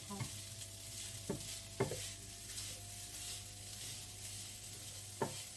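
Fried rice being stirred and sizzling in a pan on a raised flame, a steady frying hiss with a few sharp spoon scrapes and knocks against the pan, close and without talk.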